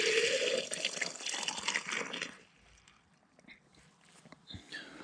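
Fresh drinking water pours steadily into a thermos outdoors for about two and a half seconds, then stops, leaving faint small knocks and quiet surroundings.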